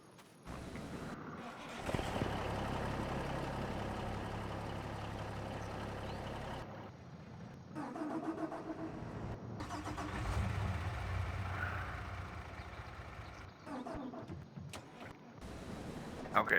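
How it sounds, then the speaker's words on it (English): A Mack truck engine in Farming Simulator 25 cranks and starts, then idles with a mid-pitched rumble, pausing briefly before revving again; moderate volume with no voices. "Good old Mack truck here."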